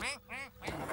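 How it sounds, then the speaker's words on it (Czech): A cartoon duck lets out three loud, nasal quacks in quick succession, close and clear, in a children's animated series about a builder. "Byla tady nějaká kvákající věc a chtěla mě vystrašit."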